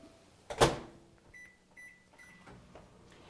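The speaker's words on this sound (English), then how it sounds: "I'm going to put that in the microwave just to melt the butter." A microwave oven melting butter: a sharp door clunk, then a few short electronic beeps and a soft steady hum, fairly close in a quiet kitchen with no talking.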